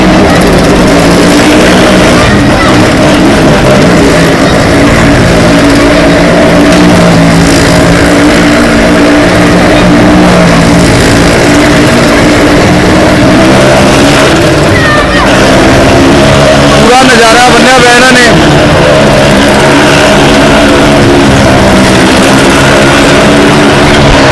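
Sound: motorcycles riding on the wall of death at a fair

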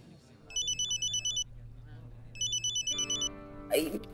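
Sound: phone ringing

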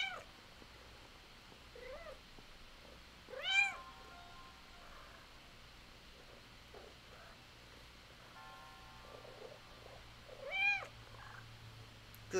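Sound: cat meowing

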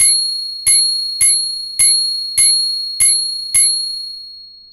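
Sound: tiny bicycle bell ringing loudly, Xiaomi QiCycle

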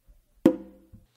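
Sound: hand drum combination, bass, finger and muff strokes

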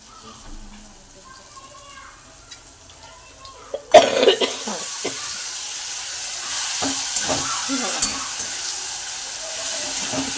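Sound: mutton frying in pan

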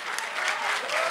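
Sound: applause

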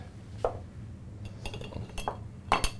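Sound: clear ice cubes clinking into a cocktail glass

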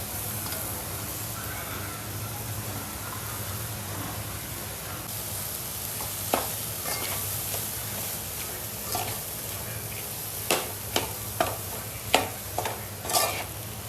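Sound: stirring and frying chopped vegetables in a pan

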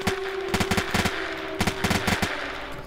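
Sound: M4 rifle firing in a video game

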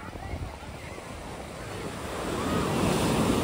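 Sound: ocean waves at Marina Beach, Chennai

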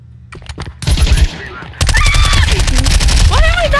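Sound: gunfire in the video game Counter-Strike 2

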